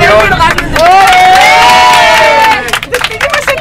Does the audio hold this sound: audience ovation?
yes